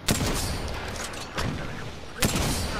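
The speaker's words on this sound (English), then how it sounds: "Another team shooting." Bursts of gunfire in the video game Apex Legends, two or three sharp shot clusters over a dense, noisy game background, fairly loud and close.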